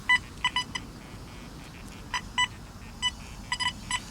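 A Minelab Deus II metal detector gives repeated short tonal beeps and chirps as it signals iron targets, coming in irregular bursts over a low background rumble.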